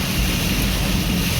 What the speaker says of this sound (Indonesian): diguyur hujan deras. Deras sekali guys, hujan guys